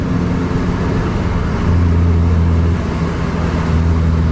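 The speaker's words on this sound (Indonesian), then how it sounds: "Kalian dengar nih suara mesinnya. Ini mesin dengan 8 piston dan 2 turbo." A 1996 Megatrend bus with a V8 twin-turbo engine and air suspension runs with a steady low rumbling drone, heard from inside as the bus drives along, with no talk over it.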